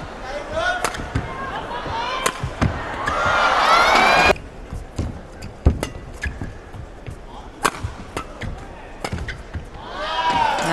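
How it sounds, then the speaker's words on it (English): A badminton match crowd at the Sudirman Cup murmurs and rises in tense anticipation, with sharp shuttle smacks and squeaking shoes cutting through, a sudden swell of noise, then quieter hits before the crowd noise grows again. "Crowd's getting anxious."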